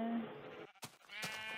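Sheep in the Minecraft video game give a single short, nasal bleat, heard up close and alone over a faint game background.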